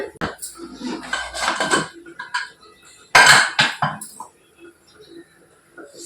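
A pot being washed in a home kitchen, with clinks and clatters of metal and dishes, water splashing in bursts, and a louder surge of rinsing midway, fading to scattered faint knocks.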